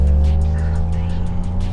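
A 2025 MG Cyberster sports car launches on a track with launch control engaged, giving a loud, close, steady engine drone with a strong low rumble throughout.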